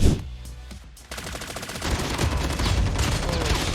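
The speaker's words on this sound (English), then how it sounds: "giving him a few shots in return" Rapid automatic gunfire in the Call of Duty Mobile video game, a dense, loud burst of overlapping shots that starts after a short lull and keeps rattling to the end.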